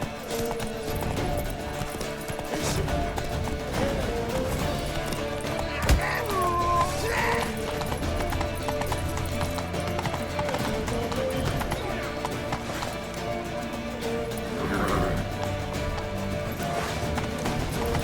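Horse hooves clip-clopping at a steady gallop in The Witcher 3: Wild Hunt, under continuous game music and background voices, with a brief whinny partway through.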